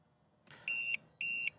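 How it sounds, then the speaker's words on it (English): A UPS battery backup unit sounds its power-loss alarm indoors: two steady, shrill electronic beeps, each about a quarter second long, clear and moderately loud over a quiet background. "And there goes the UPS alarm."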